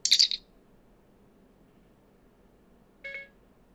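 A Bluetooth device gives two short electronic beeps about three seconds apart, the first a bright, slightly warbling chirp and the second a lower two-tone tone, each alone against near silence.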